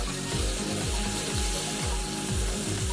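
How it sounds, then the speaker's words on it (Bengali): Spice paste stirred and fried in a pan for vegetarian aloo dum, sweetened with jaggery, with a steady sizzle and rhythmic scraping strokes of the spatula repeating close up, no voices. "দেখুন আমি এখানে মশলাটা খুব ভালো করে কষে নিচ্ছি।"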